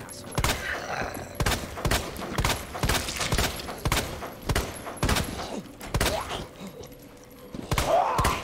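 Repeated gunfire aimed at the Tyrant in Resident Evil 2, with sharp, loud shots in an uneven rhythm across the whole stretch and brief lulls between bursts.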